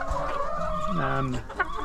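Free-range chickens at seed feeders in a mobile caravan paddock give a few close, drawn-out clucks and squawks against a low outdoor background.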